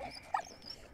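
A dog in the World War I puzzle adventure game Valiant Hearts: The Great War gives a short, faint whine or yip, a quick bright call against a soft game background.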